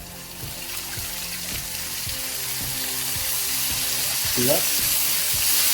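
Sauce for crispy cauliflower bites in spicy jerk sauce, with green chilies, sizzling steadily in a hot pan, a loud continuous fry hiss with utensil scrapes, under a brief spoken remark.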